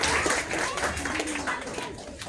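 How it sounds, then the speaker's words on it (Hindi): A school award ceremony crowd claps steadily for a couple of seconds, a dense, moderately distant patter with voices mixed in underneath. "जोरदार तालियां हो जाए।"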